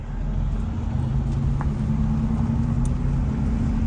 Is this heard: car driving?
yes